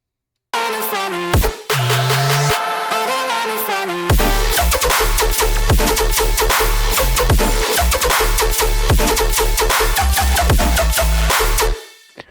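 A short synth intro gives way to a loud electronic drop with pounding bass, punchy kicks and dense layered synths driving steadily before cutting off.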